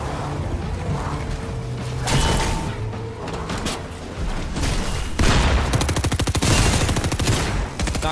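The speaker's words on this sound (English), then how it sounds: "There's a lot of gunfire." Gunfire in a Fortnite trios match, with bursts of rapid automatic fire, single heavy shots and booms stacking into a dense fusillade that grows loudest near the end.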